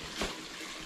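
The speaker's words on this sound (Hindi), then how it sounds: "अभी हम इसको निकालेंगे, ज़्यादा फोर्स से पानी आएगा और हम भीग जाएंगे इसमें।" Water gushes with force out of a pipe, a steady broad rushing spray with a brief louder surge near the start, close and continuous throughout.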